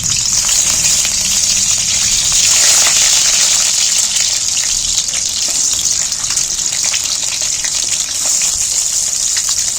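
Halved eggs frying in hot oil give a loud, continuous, bright hissing sizzle that stays steady and close throughout with no break.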